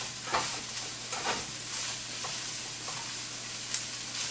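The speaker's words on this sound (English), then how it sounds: "Doesn't take long when the meat's already warm to kind of sweat those onions down" Chopped onions sweat with warm ground beef in a pan for a Tex-Mex beef casserole: a low, steady sizzle broken by a few scraping stirs of a spatula, close up and with no voices.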